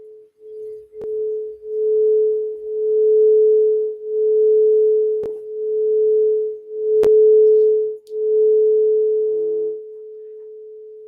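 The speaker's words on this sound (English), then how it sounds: "I'll just play the bowl just a little bit" A singing bowl, played from a little distance away, is struck about four times, each sharp strike blooming into a steady, sustained ringing hum that keeps sounding between strikes and fades at the end.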